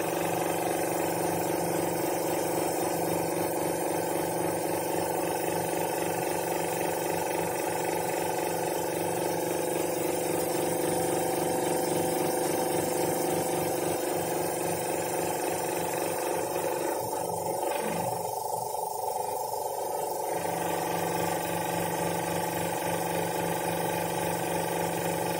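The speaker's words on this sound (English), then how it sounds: "Now stop the pump." A vacuum pump runs on a digital leak test apparatus with a desiccator, holding a loud, steady mechanical drone throughout with a brief change in tone near the end, no voices.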